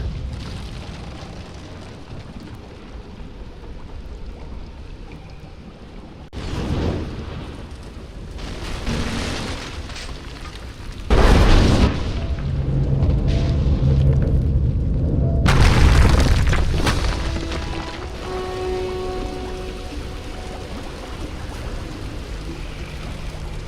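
A Greek fire explosion in Rise of the Tomb Raider, deep booming blasts with roaring rumble that swells and sustains, followed by crackling debris and lingering low noise.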